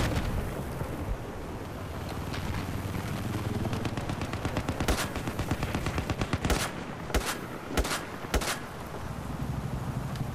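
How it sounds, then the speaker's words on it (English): Gunfire and explosive blasts from an airburst weapon in the Battlefield 4 video game, a dense barrage of loud overlapping shots with several sharp, heavy bursts standing out near the end. "I'll shoot my airburst."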